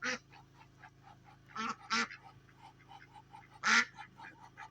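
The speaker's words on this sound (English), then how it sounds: "Come here, duckies." Ducks quacking outdoors in the evening, several loud nasal quacks in irregular bursts close by, with softer calls and murmuring between them.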